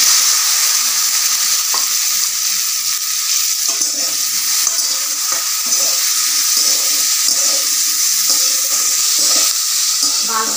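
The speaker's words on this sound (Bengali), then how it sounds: "তেলটা গরম হয়ে গেছে, দিয়ে দিচ্ছি পরিমাণ মতো লবণ ঢেঁড়সের মধ্যে" Okra fries in hot oil with salt and turmeric, making a loud, even sizzle that hisses steadily throughout without pause.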